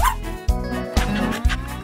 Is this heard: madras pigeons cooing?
no